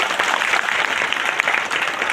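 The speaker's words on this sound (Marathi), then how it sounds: "त्यांच्यासाठी एकदा जोरदार टाळ्या होत्या" An audience at a spiritual guidance talk claps loudly, a thick, continuous burst of many hands that fills the short stretch with no voices over it.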